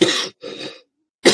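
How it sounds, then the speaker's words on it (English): A man with a fresh cold coughs up close, three harsh bursts in quick succession with a short silent gap before the last. "I apologize for the coughing."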